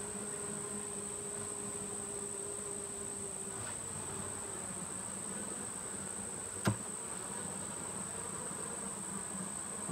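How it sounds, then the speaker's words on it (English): Honey bees in a struggling colony drone steadily around hive frames on a farm, a continuous close buzz with a high whine running throughout and one brief sharp knock near the middle. "I'm hearing more bees"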